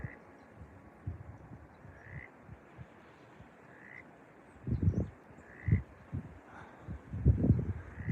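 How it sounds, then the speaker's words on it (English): A frog near water pools at an Inca site croaks in a few low, throaty bursts, fairly close and distinct, while quiet talk and faint trickling water sound around it. "I can hear a frog"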